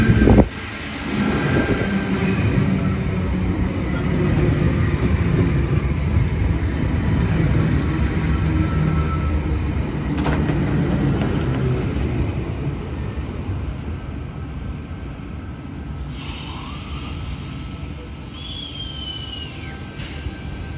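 A V48 chopper set train pulls into Glenbrook station, a steady low rumble and rolling roar close by that holds for the whole span, with wind buffeting the microphone and a faint squeal late on.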